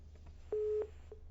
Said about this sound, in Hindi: प्रोफेसर साहब का फोन डिस्कनेक्ट हो गया है